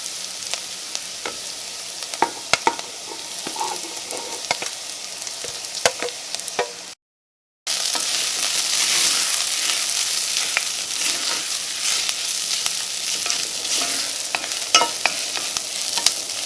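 Fried ivy gourd (tindora) stirred into softened onions in a pan for a curry: steady sizzling with scraping stir strokes throughout, broken by a brief silent gap midway, then a louder, denser frying hiss.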